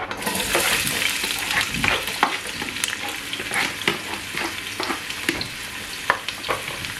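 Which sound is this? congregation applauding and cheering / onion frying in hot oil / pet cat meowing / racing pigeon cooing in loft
onion frying in hot oil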